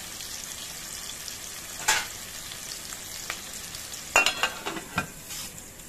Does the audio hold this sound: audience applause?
no